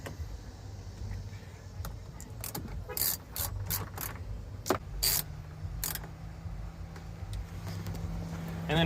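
A ratchet clicks in short bursts while snugging 8mm nuts on a door mirror of a 2005-2010 Honda Odyssey, close up, with brief pauses between runs of ratcheting over a low background hum.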